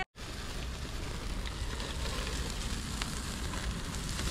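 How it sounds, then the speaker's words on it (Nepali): Meat sizzling on an outdoor barbecue grill in Japan. A dense, continuous crackling hiss with fire crackle starts abruptly and holds steady and close, with no voices. "मासु पोलाइ सुरु भयो हाम्रो"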